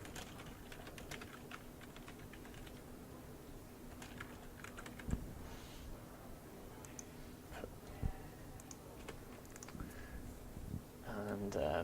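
A computer keyboard clicks in a steady run of light keystrokes, close and fairly quiet, with a faint background hum and brief heavier taps near the end.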